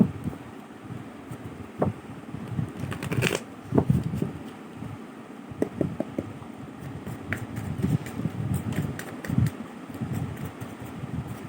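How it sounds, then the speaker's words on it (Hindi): Tarot cards being shuffled by hand, a steady close rustle and riffle with soft irregular flicks and taps continuing throughout, with no voices. "सो जब तक मैं शफलिंग कर रही हूँ गाइस,"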